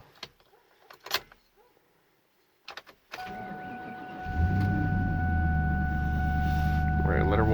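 A 1999-2004 Ford Mustang with an automatic transmission starts up after a few quiet clicks, its engine catching and settling into a steady, loud idle close by with a faint whine over it.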